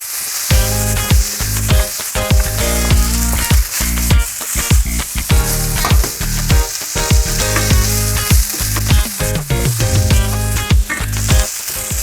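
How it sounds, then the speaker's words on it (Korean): Frozen fried rice crackles and sizzles loudly in a preheated stainless steel pan on an induction cooktop, with dense continuous spattering and intermittent scraping stirs throughout. "이제 냉동 볶음밥을 부어 볼게요."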